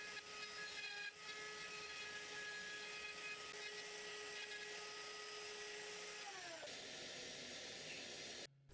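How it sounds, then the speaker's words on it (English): Machine milling tenons in wooden stool legs, a steady high-pitched whining cut with a constant tone, close and continuous until it abruptly stops near the end. "Then on to milling the tenons in the legs."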